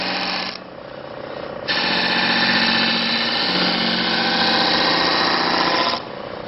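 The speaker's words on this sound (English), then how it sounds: "And you can see that I can sand plenty of material here." A handheld oscillating or disk sander works over material with a loud, buzzing motor hum that swells when pressed to the surface. Two sustained passes of grinding are separated by lighter running at idle, with no talking.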